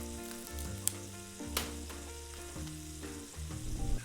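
Shrimp frying in butter and oil in a skillet, a steady close sizzle running under a strong melodic music bed, with a few sharp crackles and pops standing out along the way.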